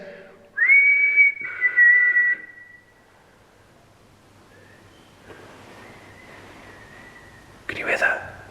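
A person whistles outside at night at a supposedly haunted location, first a loud sustained tone, then fainter distant whistling before a brief noisy burst.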